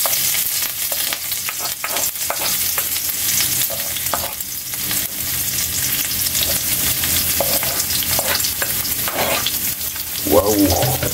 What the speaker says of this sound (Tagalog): Kung mag-umpisa natin mag-igisa sa ating mga sangkap